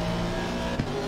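A BMW race car slides in Assetto Corsa Competizione with a steady, loud engine drone. The engine's tone stays level, and a short tyre scrub or bump comes near the end of the brief moment.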